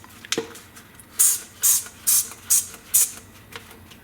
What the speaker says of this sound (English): we can just spray some of this on here.